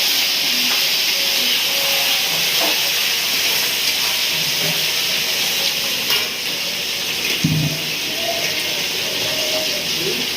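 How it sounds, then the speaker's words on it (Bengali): Prawns frying in a pan, a loud, continuous bright hissing sizzle close up, with soft stirring scrapes and a brief clatter of the utensil partway through, with no voices. "দিয়ে দিলাম চিংড়ি মাছ ভালো করে নেড়ে ছেড়ে নেবো"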